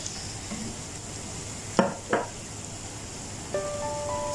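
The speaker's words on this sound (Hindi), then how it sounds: "सारी चीज़ों को अच्छे से मिक्स करेंगे और मसालों को थोड़ी देर के लिए भून लेंगे" Red chili powder, turmeric, garam masala and coriander powder fry in a pan for aloo gobhi, giving a steady close sizzle with a couple of sharp scraping stirs.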